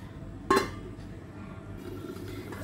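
A lid set down on a cooking pot of drumstick curry gives a single bright metallic clink, close and short, followed by a low simmering hum.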